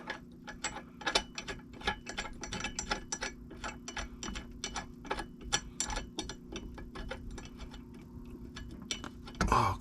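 A bolt being threaded into the front differential of a 2005 Kawasaki Brute Force 650, heard as a close, steady run of quick ratchet-like mechanical clicks for about ten seconds with no talk.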